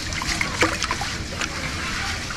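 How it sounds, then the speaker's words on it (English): Rice being washed by hand in water to rinse off the starch, with continuous sloshing, trickling and small splashes close up and a few sharper splats, and no voice. "Make sure that I wash the rice to get the starch out"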